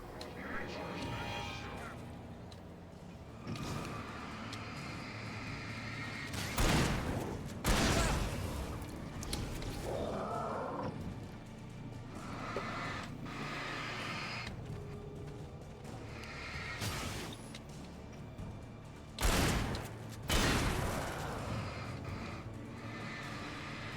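Shotgun blasts in the video game Alan Wake, a few loud booming shots spaced apart over ongoing game sounds, with a person talking throughout.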